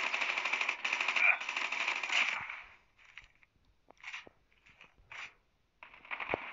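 Rapid automatic gunfire from Call of Duty Mobile rattles steadily for about two seconds, followed by scattered shorter bursts and single shots with brief gaps between them.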